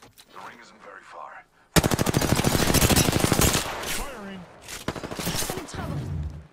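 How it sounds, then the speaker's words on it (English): Enemy squad gunfire in the video game Apex Legends: a loud sustained burst of rapid automatic shots, then a pause and a second shorter volley, with brief character voice lines in between. "A second squad is firing at us."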